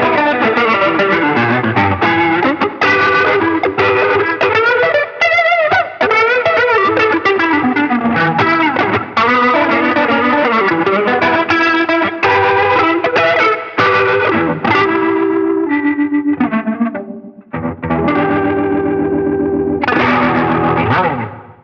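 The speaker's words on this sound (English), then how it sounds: "there is the TC Electronics Vibraclone. That's my favorite Leslie style pedal" Overdriven electric guitar run through a TC Electronic Vibraclone Leslie-style rotary pedal, loud and continuous, with chords and riffs swirling in a wobbling chorus-like modulation and gritty distortion, played alone with no talking.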